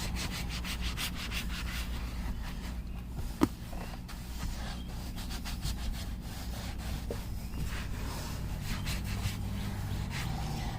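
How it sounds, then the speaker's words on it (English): A microfiber towel rubs cleaner into a black leather seat in a Mercedes S500 W140, giving a steady, close scrubbing and rubbing texture with one brief sharp knock partway through and no talking. "I'm going to grab my microfiber towel and I'm going to continue to kind of massage it in"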